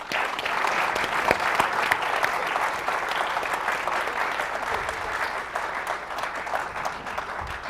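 A seated audience at the close of an evening education conference panel breaks into sustained, even applause that carries on steadily from start to finish with no speech over it.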